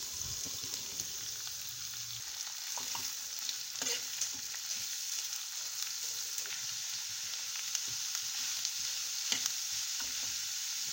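Chopped onion fries in a pan with spices for a mushroom dish, a steady close sizzle with occasional stirring clicks throughout.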